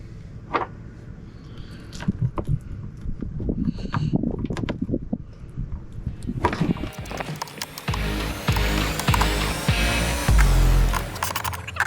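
A hand ratchet tightens a mudflap bolt on a 2022 Ram 3500 dually, giving scattered close clicks and rattles, followed by a denser, louder stretch of metallic ratcheting and handling noise.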